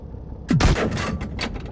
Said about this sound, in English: Let's snipe this sucker.